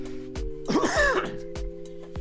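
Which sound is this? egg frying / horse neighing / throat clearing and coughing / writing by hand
throat clearing and coughing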